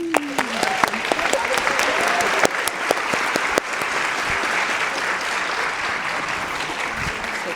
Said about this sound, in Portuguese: mas que eu peço uma salva de palmas